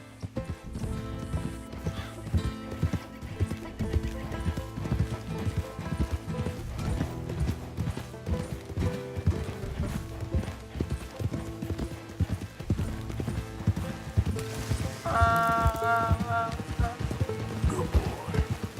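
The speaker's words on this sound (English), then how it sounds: "I'll get this donkey to kick you." A donkey in Red Dead Redemption 2 clops along in a steady, continuous rhythm of hoofbeats, with a brief whinny near the end, and someone talks over the hooves.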